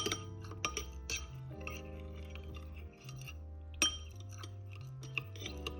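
A spoon clinks repeatedly against a glass while stirring cornstarch into room-temperature water, the light taps coming in an irregular rhythm over a steady background hum.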